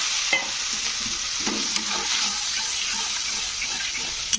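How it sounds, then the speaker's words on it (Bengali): A little water hitting a pan of frying spices with cumin powder for curd brinjal gives a continuous hissing sizzle, with scraping stirs and occasional light knocks of the utensil. "তো এবারে আমি এর মধ্যে সামান্য একটু জল দিয়ে দেবো।"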